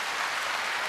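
A brief, even burst of clapping from a church congregation during a sermon, a continuous wash of many hands at moderate volume.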